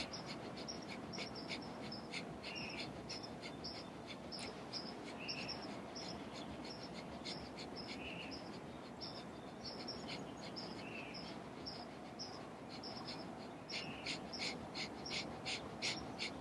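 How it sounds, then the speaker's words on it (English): Breath of fire yogic breathing plays out as fast, evenly paced puffs of exhaled air, a long, quiet, rhythmic string of short bursts that keeps the same tempo throughout. "Breath of fire."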